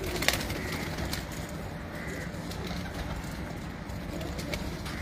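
Faint, soft cooing from a flock of prized pigeons in Multan, low in level against a steady background hum, with no clear voices.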